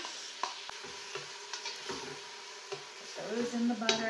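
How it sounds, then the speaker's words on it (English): Chopped, diced onions hit melted butter in a pot over medium-high heat, giving a soft close sizzle with light stirring and utensil clicks, and faint speech in the background. "We're gonna add our 2 onions that have been chopped and diced."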